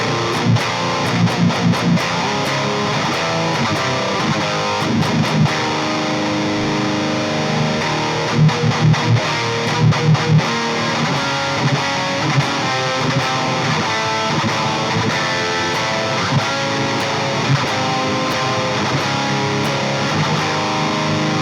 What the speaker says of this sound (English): I made this patch called Saturated and Gainy Rhythm.